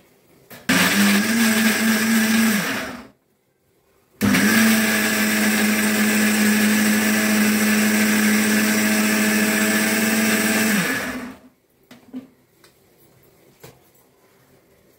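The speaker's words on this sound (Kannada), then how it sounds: "ಮಿಕ್ಸಿ ರುಬ್ಕೊಳ್ತೀನಿ" A mixer grinder blending rasam ingredients runs loud and steady in two bursts of about three and seven seconds, with a short pause between and a faint clatter after it stops.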